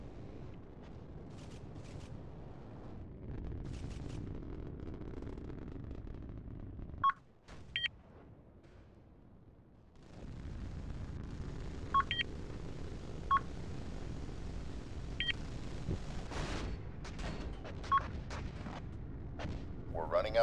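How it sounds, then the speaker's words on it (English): A naval video game battle with missile launches and gunfire: dull artillery-like thuds and rumbling bursts over a low engine drone, punctuated by sharp electronic beeps. Faint voices murmur beneath the action. "Missile away."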